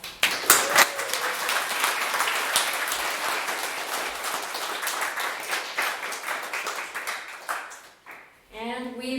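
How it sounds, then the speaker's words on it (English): Applause from a demo day audience celebrating a class of software engineers, dense broadband clapping sustained for about eight seconds before fading, with a voice beginning to speak at the end. "Let's give them another round of applause."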